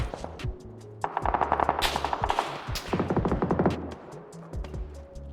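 Bursts of automatic gunfire in PUBG, rapid rhythmic cracks rattling in clusters over about four seconds, loud and close with echoing tails, no talk.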